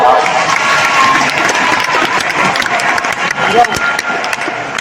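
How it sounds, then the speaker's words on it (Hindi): Loud, dense applause from a large audience at a Shiv Puran katha gathering in Sejbahar, Raipur, a steady roar of clapping and crowd noise that holds for the whole stretch, with a voice faintly mixed in. "एक बार जोरदार ताली बजाओ।"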